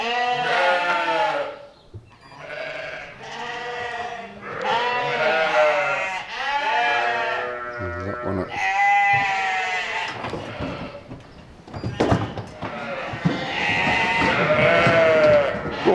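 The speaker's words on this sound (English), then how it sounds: "I will scan these sheep, Christina will let them out" Sheep at a farm inspection bleat loudly and repeatedly while being scanned and let out of a pen, several overlapping calls from close animals in near-continuous bursts, with a brief clatter of movement in between.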